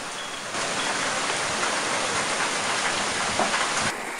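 Heavy rain pours down steadily, a dense, even hiss of water that holds constant throughout.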